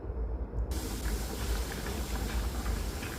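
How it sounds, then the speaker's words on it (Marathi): Drumstick and potato curry with ground dry coconut boiling in a pot, a steady broadband hiss and bubbling that starts abruptly and continues close and even. "आता छान उकळी आलेली आहे"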